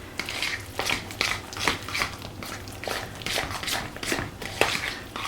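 Deviled egg salad is stirred with mayo in a bowl, a steady series of soft wet scrapes and spoon clinks in a loose rhythm, close and alone without talk.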